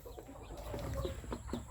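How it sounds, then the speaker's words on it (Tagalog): Newly hatched chicks of a large chicken breed peep in a small brood, with several short, high cheeps overlapping close by against a low background rumble. "14 sisiw yung ating napapisa"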